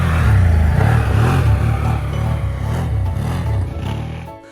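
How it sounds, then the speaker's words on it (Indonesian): An ATV all-terrain vehicle engine revs up and down in close, loud pulsing surges, settling briefly before trailing off at the end. "Ini adalah motor ATV atau All Terrain Vehicle."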